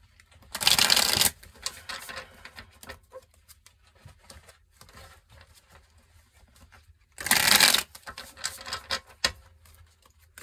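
A tarot deck is shuffled by hand in two loud, crisp riffling bursts, each lasting about a second and separated by several seconds of quieter card handling and shuffling.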